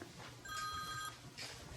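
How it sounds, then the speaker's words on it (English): Mobile phone ringtone chiming during a C++ conference talk, a faint repeating electronic tone heard in two short bursts over the hall's low background. "And I should have silenced my phone"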